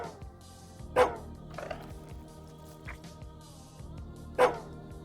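A dog in the video game Psychopomp GOLD barks twice, short sharp barks spaced a few seconds apart, close and clear over a quiet tonal background.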